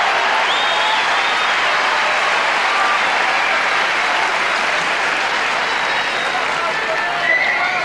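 Crowd applauding at a Wimbledon tennis match in 1992, dense sustained clapping from a large audience filling the whole stretch at even loudness.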